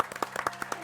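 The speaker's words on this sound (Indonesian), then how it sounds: "Kita kasih tepuk tangan untuk Juju." Studio audience clapping for Juju on an Indonesian television variety show, a short burst of scattered, moderately quiet handclaps with a few sharper individual claps.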